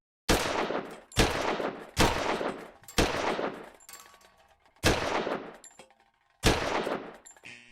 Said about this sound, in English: The muzzle energy of the Parabellum is 4 times greater than that of the 22 LR, and cans receive much more momentum when hit.